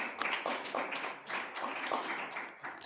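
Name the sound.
audience applause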